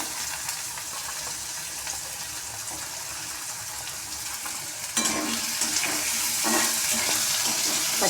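Potato pieces, onions, peanuts and broad bean pieces fry for fried rice in hot oil, a steady close sizzle that grows louder and busier halfway through as more ingredients go in and get stirred.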